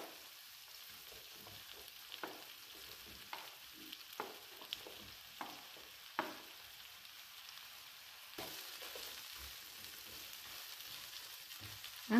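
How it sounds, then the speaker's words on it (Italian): Aubergines sizzle and crackle as they fry in a pan of vegetables, a steady hiss broken by sharp clicks and stirring knocks, fairly close and alone without any voices. "E ora aggiungiamo in padella le melanzane."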